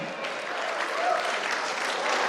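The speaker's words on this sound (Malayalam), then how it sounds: "നിറഞ്ഞ കൈയടിയോടെ നമുക്ക് സ്വീകരിക്കാം നമ്മുടെ പ്രിയപ്പെട്ട പിതാവിനെ." Audience applause welcoming a guest at a 50th wedding anniversary event, a dense, steady clapping from a crowd that carries evenly for the whole stretch.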